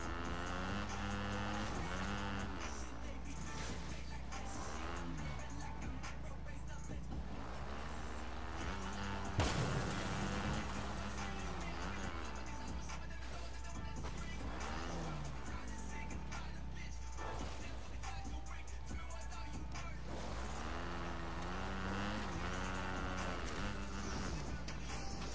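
Engine of a car being driven in a combat video game runs as a steady drone throughout, with pitch rising and falling as it accelerates, and one sharp thump near the middle; voices talk quietly over it.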